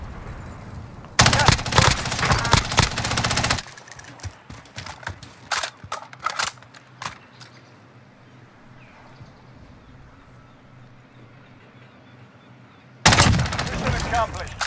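Heavy gunfire in Call of Duty Warzone Resurgence: loud bursts of automatic fire at the start, scattered sharp single shots in the middle, then another dense loud burst at the end.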